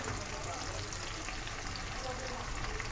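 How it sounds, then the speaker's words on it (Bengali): Chopped onions frying in oil, giving a steady, dense sizzle that holds evenly throughout with no distinct breaks. "এই পেঁয়াজগুলোকে হালকা ব্রাউন কালার করে ভেজে নিব।"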